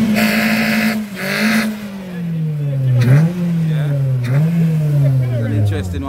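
Two Toyota Fila cars street racing in Montego Bay, Jamaica, roar loudly and close, one engine winding steadily down in pitch with short gear-change dips, while voices can be heard faintly over it.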